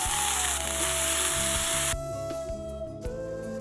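Bora rice frying in a pan with nuts and raisins, a steady loud sizzle with a few stirring scrapes, the texture thinning sharply partway through, close up with no talking.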